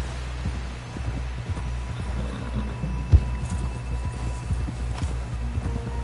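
Horse hooves trotting in Red Dead Redemption 2, a steady clip-clop rhythm over low rumbling game ambience, with one sharp thump partway through.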